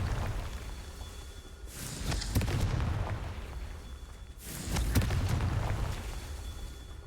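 Two deep, booming blasts from the Confringo spell in Hogwarts Legacy on PS5, each erupting suddenly and then rumbling and fading, a few seconds apart.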